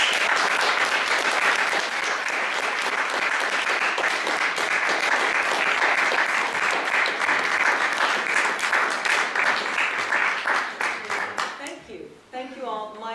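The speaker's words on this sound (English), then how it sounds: "can we give another round of applause for Susan?" A room full of people applauds after a talk by the CEO of BRAC USA, loud dense clapping that runs steadily and then thins out, with a voice briefly heard at the end.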